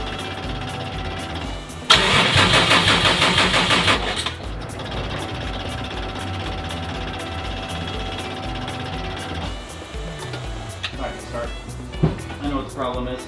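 Subaru STI engine cranking without catching, a loud rhythmic starter churn for about two seconds, then a steady background hum and clatter while people talk.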